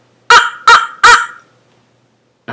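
Three short, raspy honk-like vocal bursts in quick succession, a beatboxer imitating a record scratch by squeezing the back of the throat, followed by silence.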